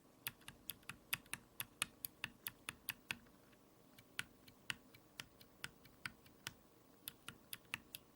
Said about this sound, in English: my W key has started to make clicky noises.